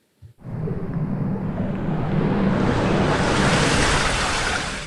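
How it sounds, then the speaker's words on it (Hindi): Water and air are pumped out of a tank, a loud, steady rushing whoosh that starts abruptly after a brief thump and holds at an even level, with no voices. "अब मैं इस टैंक से सारा पानी और सारी हवा निकाल देता हूं"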